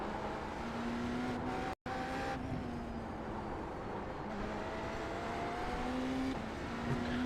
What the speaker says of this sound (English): Coming up on a slower class car.